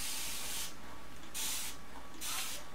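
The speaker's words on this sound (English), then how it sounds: "I'm just going to spritz the top a little bit so that the soil absorbs the moisture on the surface." Spray bottle spritzes water onto the top of potting soil in four quick, evenly spaced hissing bursts, close and soft.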